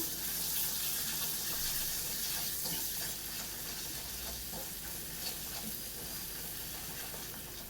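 Ground masala paste for Afghani egg curry sizzles and fries steadily in a pan while being stirred, a continuous close hissing crackle with occasional scraping, no voices.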